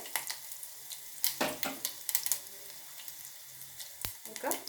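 Crushed garlic fries in hot oil for tambuli, a soft crackling sizzle broken by clinks of a spoon against the pan, close and fairly quiet.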